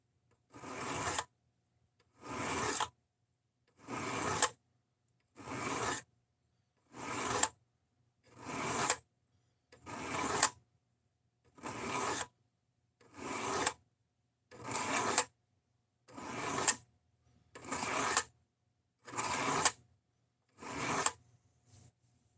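A cheap Amazon knife is drawn repeatedly across a sharpening stone, about fifteen evenly spaced rasping strokes with brief silences between them, close and clear with no talking.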